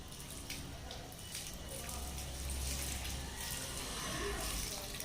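Water pours and trickles steadily onto rose plant soil for several seconds, a close, continuous splashing wash that grows slightly fuller toward the end.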